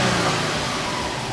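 A Subaru Levorg engine idles with a low, steady rumble from a stock exhaust, quiet and even, with no voices.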